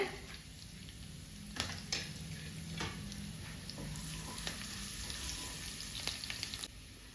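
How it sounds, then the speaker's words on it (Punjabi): Garlic roasting in hot oil in a pan alongside cumin, a steady sizzle and fry with a few stirring scrapes, close and alone with no talk, while making besan bhurji. "ਹੁਣ ਇਸ ਦੇ ਵਿੱਚ ਪਾਵਾਂਗੇ ਲਸਣ ਤੇ ਲਸਣ ਨੂੰ ਵੀ ਆਪਾਂ ਲਾਈਟ ਬ੍ਰਾਊਨ ਹੋਣ ਤੱਕ ਭੁੰਨ ਲੈਣਾ"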